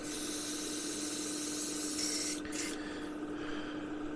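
A Gaahleri Mobius TG airbrush sprays airbrush cleaner in one steady, continuous hiss that runs loud and close for about two and a half seconds, then cuts briefly and resumes more softly. A compressor hum sits underneath throughout.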